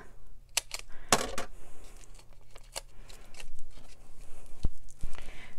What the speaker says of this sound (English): Snip off this corner too.